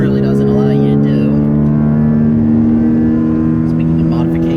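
A truck fitted with an aftermarket intake accelerates with a loud, close, steady engine drone. Its deep harmonic note holds throughout and rises slightly in pitch.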